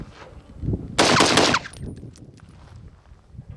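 A rifle fed from a DSA polymer magazine firing rounds outdoors, a sharp loud burst of closely spaced cracks lasting about half a second, followed by quieter mechanical clatter and handling noise.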